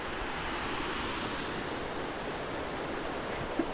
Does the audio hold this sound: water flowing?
yes